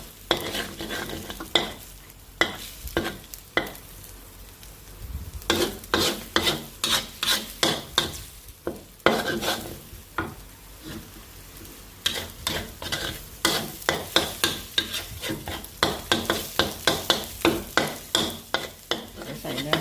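Beef stir-frying for dry sukiyaki, with rhythmic repeated scrapes of a spatula against the pan over a low sizzle, close and fairly loud, coming in bursts with brief pauses and no speech.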